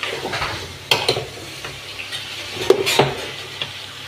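Taro stolons frying in a pan, with a soft continuous sizzle and a few sharp spatula scrapes and clinks against the metal as they are stirred. Close, moderately quiet, no talking.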